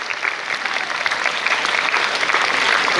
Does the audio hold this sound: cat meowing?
no